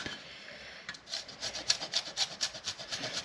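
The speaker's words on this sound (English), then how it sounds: "I'm just going to grate some Parmesan in here. I'm using the fine grater for this" Parmesan cheese scraped over a fine grater, a rhythmic series of soft, quick raspy strokes, close and quiet, with no voices.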